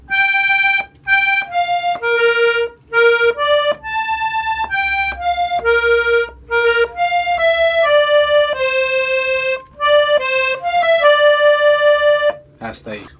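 A tutorial phrase from a song, played on charango, accordion or guitar: a clear melodic line of sustained notes moving stepwise through a short phrase, loud and alone, with a brief click at the end.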